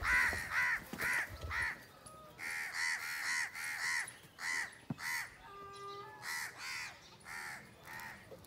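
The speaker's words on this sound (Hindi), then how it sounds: "अब देखे हमारे दीवार पर कितने कौवे आ चुके हैं" Crows caw repeatedly in short harsh bursts, several birds perched on a wall calling in uneven rhythm, fairly clear against a quiet background.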